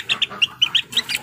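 One-month-old chicks give a quick run of sharp, high peeping calls, about eight chirps in just over a second, close and clear with no talking.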